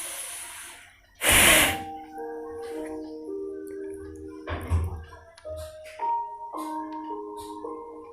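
A deep, forceful inhale through the nose during a pranayama breathing exercise: one short, loud, rushing breath, close to the mic, followed by soft sustained musical tones.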